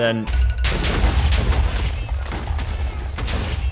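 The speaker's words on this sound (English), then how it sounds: "that explosion was not what I was hoping for. Okay, so it did blow things up, but just not enough." Gunpowder explosions in a Minecraft hardcore world go off in a loud, rumbling chain of deep booms and crackling blasts, several overlapping bursts filling the whole stretch up close.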